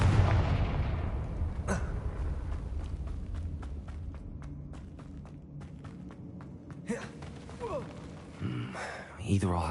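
A Confringo blasting spell in Hogwarts Legacy goes off with a heavy boom at the start, followed by a run of sharp rhythmic footstep-like clicks and scattered thuds, fairly quiet overall.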